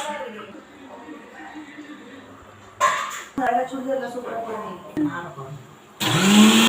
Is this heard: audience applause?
no